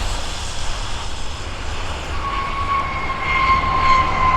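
A USAF heavy transport or tanker touches down at Abbotsford, a steady broad jet roar swelling slightly with a thin whine rising partway through, distant and continuous with no talk.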